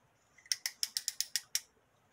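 The flashlight head on a folding utility knife swivels through about eight quick, crisp ratcheting clicks, close up and quiet against near silence.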